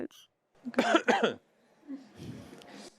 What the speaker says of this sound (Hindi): नहीं, सही में खांसी आई थी।